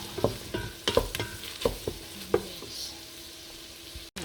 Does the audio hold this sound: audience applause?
no